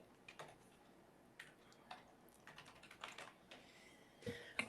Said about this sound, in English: The clerk is typing them now